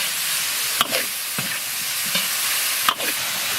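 Cauliflower stir-fried in a wok with dry pot sauce, scallion, ginger, garlic, dried chilies and soy sauce: a steady close sizzle broken by a few sharp scraping strokes of the spatula, with no talking.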